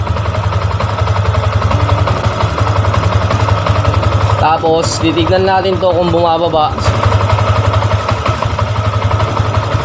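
A Yamaha Sniper motorcycle engine idles steadily to circulate coolant, a constant low drone running throughout while someone talks nearby over it.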